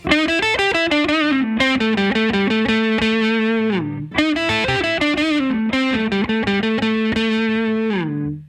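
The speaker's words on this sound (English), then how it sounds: "I'm going to switch to my neck pickup to give it that kind of more deep bluesy sound" Electric guitar played on the neck pickup through a Fulltone OCD overdrive pedal with the drive set low, giving a warm, lightly distorted bluesy tone; two loud, sustained phrases of chords and single notes ring out with no talking.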